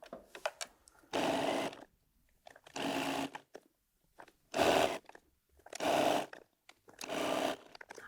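A sewing machine joins mini charm squares onto white fabric in five distinct bursts of running stitches, each about a second long and separated by quiet pauses, heard up close with no talking.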